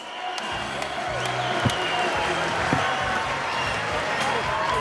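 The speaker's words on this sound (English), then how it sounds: "Round of applause for these two warriors." Crowd applause and cheering for two MMA fighters after a tight bout, a dense steady wash of clapping across the whole stretch, with a couple of sharper thuds poking through.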